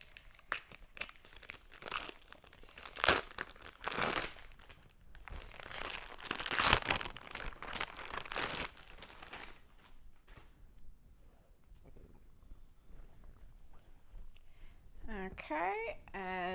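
Crinkling and tearing of taped plastic pillow packaging being cut open with scissors, in close, irregular bursts with scattered rustles and a quieter stretch before more handling.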